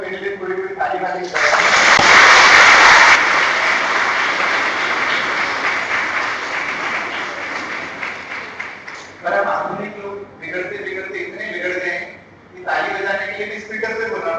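A lecture-hall audience claps together for several seconds at a special lecture, a loud, dense burst of applause that gradually thins out, followed by someone speaking over the room.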